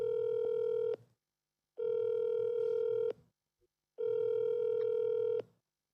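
A steady telephone dial tone sounds in three long, even bursts separated by short silences, clear and close on the line, with no talking over it.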